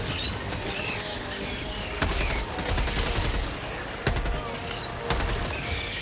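Automatic weapon fire in Helldivers 2, repeated bursts of gunfire with a few sharp louder shots standing out over a busy battle background.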